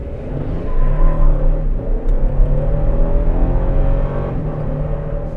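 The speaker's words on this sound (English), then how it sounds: "I want to try something different and do a 20 to 50 mile per hour pull and compare the two." A 2024 Toyota Tundra pickup accelerates hard from 20 to 50 mph, its engine a loud, continuous rising drone with heavy low rumble, heard close from inside the cab.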